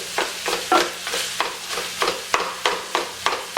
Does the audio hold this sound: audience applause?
no